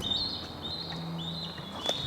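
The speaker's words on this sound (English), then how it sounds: "That is the sound of a bald eagle, actually two, fighting for food." Thin, high, mouse-like screeching calls of two bald eagles fighting over food near Waterfowl Lake, faint and somewhat distant over a steady background hiss, with a sharper cry near the end.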